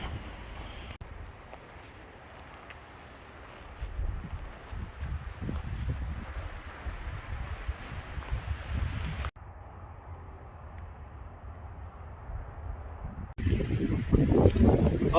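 Strong, gusty wind buffets the microphone on a mountain ridge of Mt. Rose, swelling and dropping in loud rushing surges, briefly easing to a steadier hiss before a fresh gust hits hard.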